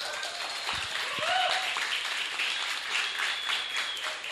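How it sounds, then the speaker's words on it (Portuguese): A church youth congregation at a service in Uberlândia gives a round of applause, moderately quiet and continuous, with a few scattered shouts and voices mixed in. "Uma salva de palmas aí, galera."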